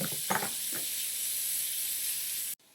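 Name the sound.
ground beef browning in a pan with onion and shallot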